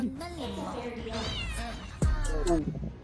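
A voice imitates a shorthair cat's meowing, giving several rising and falling mewing calls mixed in with casual talk from nearby people.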